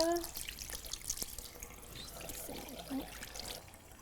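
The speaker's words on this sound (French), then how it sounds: "On vient mouiller un petit peu la brosse" Water trickles from a tap, wetting a facial cleansing brush at a sink, a soft steady running flow with faint splashes and occasional small clinks, fairly quiet and close.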